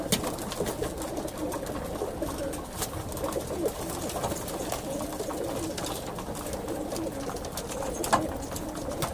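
Pigeons, racing birds, cooing in soft low murmurs, several birds overlapping close by against a steady background hum and faint rustling.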